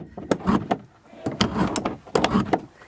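A stiff motorhome door grinds and scrapes as it is worked closed, giving a series of close, loud rasping and clunking bursts with short pauses between them.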